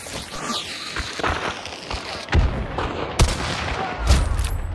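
Several heavy gunshots boom out in Hunt: Showdown 1896, spaced blasts landing about a second apart over a busy game soundscape with a whooshing effect early on.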